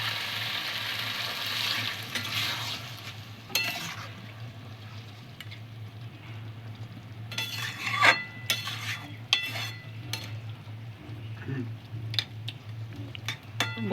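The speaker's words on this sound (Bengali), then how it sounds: "মাংসটা কষানো হয়ে গেছে, এর মধ্যে এবার গরম জল দিয়ে দেওয়া হবে।" Hot water goes into a pan of browned, slow-fried meat as it is stirred, with a soft sizzle over a low steady hum and scattered clinks and scrapes of a utensil against the pot.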